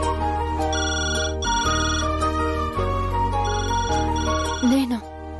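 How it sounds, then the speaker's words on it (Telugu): A telephone rings continuously indoors in a domestic drama scene, a steady electronic ringing with harmonic tones, while background music plays and voices speak over it. "నువ్వెళ్ళి ఫోన్ తీ."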